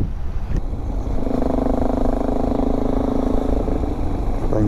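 A car engine hums steadily behind a small dirt-bike motorcycle riding along a road, a smooth mid-pitched drone under constant wind rush, with a brief louder swell near the start.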